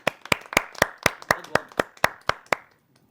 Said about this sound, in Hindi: उन असली हीरोज़ के लिए एक बार जोरदार तालियां बज जाएं